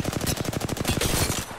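Rapid automatic gunfire from a video game shootout, a dense string of sharp shots in fast rhythm, loud and close with no pauses.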